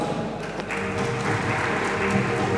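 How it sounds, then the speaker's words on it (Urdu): An audience at a Sigma International event in the Lords Complex, Lahore, applauds in a dense, steady roar of clapping that holds at an even level throughout. "بہت شکریہ, بھرپور تالیاں."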